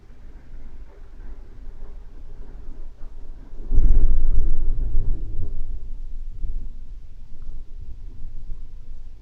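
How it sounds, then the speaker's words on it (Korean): Thunder rolling during a storm at night: a quiet rumbling background that swells into a deep, heavy crack and boom midway, then fades into a lingering low rumble. "예, 천둥과 번개가 치네요."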